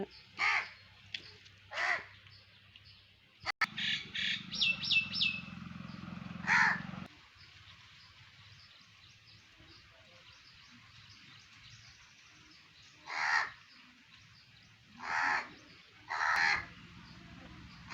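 Crows caw repeatedly in loud, harsh bursts, some in quick runs of several calls, separated by quiet pauses, fairly close by.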